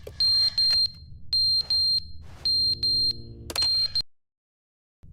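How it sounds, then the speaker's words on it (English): A video-game fire alarm in The Stanley Parable sounds in repeated loud electronic beeps, several bursts with short gaps over a low background hum, stopping abruptly near the end. "Fire alarm?"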